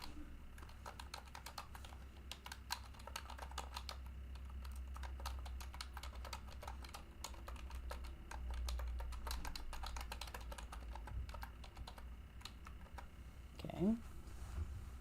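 A computer keyboard clatters with rapid, uneven clicks of typing, close and continuous for several seconds, with a faint voice murmuring in the background.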